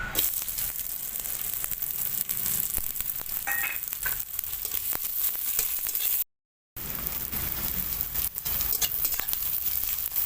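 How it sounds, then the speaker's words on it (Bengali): Chopped onion fries in oil in a wok, a continuous close sizzle with occasional stirring scrapes and a momentary break midway, no talking. "পেঁয়াজটা একটু হালকা করে ভেজে নিয়েছি"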